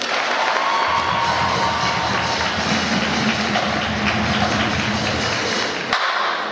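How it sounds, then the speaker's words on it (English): Crowd applause filling a hall at a football jersey ceremony, a dense continuous clapping roar that holds steady for several seconds before cutting off abruptly. "Let's give them one more round of applause."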